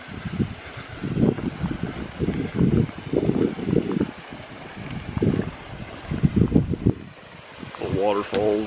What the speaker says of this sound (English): The creek.